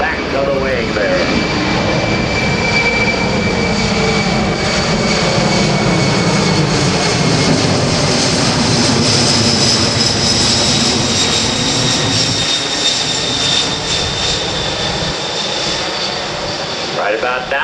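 C-17 Globemaster III jet engines power up at an airshow, a loud, sustained roar that swells and fills the whole clip, with talk over the engine noise.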